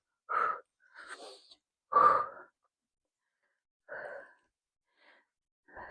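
Heavy, forceful exhales come in short bursts during an ab workout, about five breaths spaced irregularly with silent gaps, close and alone.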